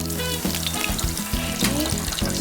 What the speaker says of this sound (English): I'm gonna start frying my ribs